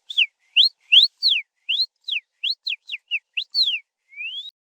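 A man whistles an imitation bird call: about a dozen short, bright downward and upward swooping chirps in quick succession, clear and close, ending with a softer rising whistle.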